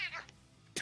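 A short, faint meow, likely a cat's voice replayed or imitated, comes after a brief falling cry, with no other sound around it.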